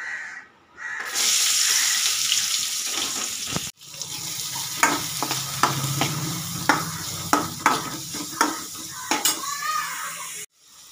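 Chicken pieces frying in a pan for a banana leaf chicken curry, with a steady sizzle broken by sharp scraping and clinking strokes of a spoon stirring against the pan, all close and loud.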